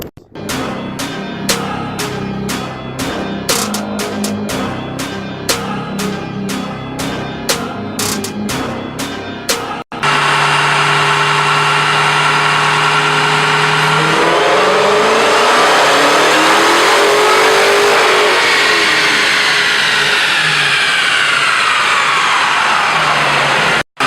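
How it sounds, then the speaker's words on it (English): A car engine on a dyno runs through a series of rapid blips, then holds a loud, sustained full-throttle pull as the pitch sweeps up and back down. It sits close and fills the space on its own. "let's get to doing a whole bunch of dyno pulls"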